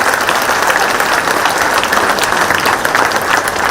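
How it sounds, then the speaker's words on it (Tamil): An audience at a Tamil motivational comedy talk claps loudly and steadily, dense sustained applause with no break. "பலத்த கைத்தட்டலோடு நம்ம வந்து விடை கொடுக்கலாம் ஐயாவுக்கு."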